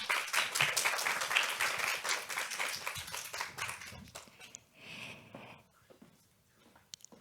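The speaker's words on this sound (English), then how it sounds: "Shall we give a round of applause to welcome Mr." An audience at a fashion summit panel discussion in Hong Kong applauds to welcome speakers onto the stage, with dense, steady clapping that slowly thins out and fades near the end.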